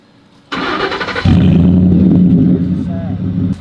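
A boat engine cranks with a whirring starter, then catches and settles into a loud, deep rumbling idle close by, exhaust prominent, with a voice briefly heard.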